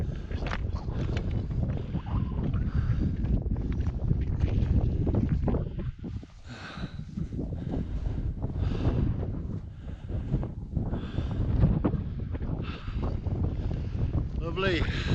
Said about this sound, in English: If you can hear me over the wind.